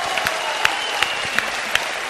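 A television studio audience applauds in a continuous, fairly loud wash of clapping, with a few sharper claps standing out at a roughly regular pace, filling the room.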